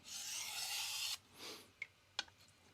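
A knife blade drawn lightly across a vitrified diamond sharpening stone to remove the burr, giving a steady, close hissing rasp for about a second, then a few softer strokes and small clicks in quiet.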